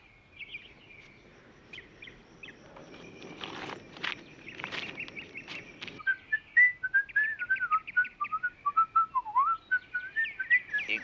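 A person whistles a wavering melody, clear and close, after some scattered clattering and shuffling sounds at the start, in a scene from the western TV series Bonanza.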